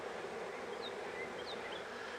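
Honeybees buzz around an open double-deep hive during a frame inspection, a dense, steady swarm hum with a few individual bees whining past close by.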